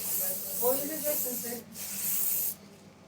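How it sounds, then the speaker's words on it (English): Hairspray from an aerosol can applied to finish a hairstyle, a close, loud hissing spray lasting about two and a half seconds with one brief break, while a person talks over it. "Spray, finish it off."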